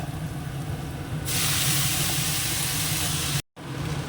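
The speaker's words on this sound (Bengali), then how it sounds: "এবার শাকটা ঢেলে দেবো" Leafy greens pour into a hot pan with garlic, turmeric and salt, setting off a sudden loud, steady sizzle that jumps up and holds, broken by a brief silent gap near the end.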